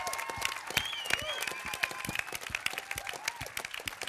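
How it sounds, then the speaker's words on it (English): An audience at the FameLab UK science communication final claps for the finalists, a lively burst of sharp, uneven hand claps with a few whoops mixed in. "Let's give them all a big round of applause."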